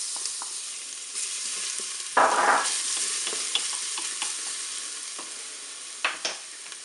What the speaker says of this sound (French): mon huile est chaude, le préchauffage est terminé. Je vais mettre dans la cuve l'ail râpé